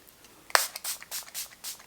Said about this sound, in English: I love the spray